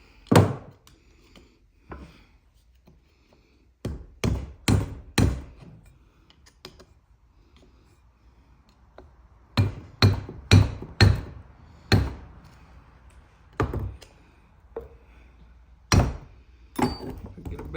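Heavy hammer blows on a stuck drive shaft of a 1974 Ford F100 with a five-speed, landing in clusters of three to five sharp metallic thuds separated by pauses, loud and close.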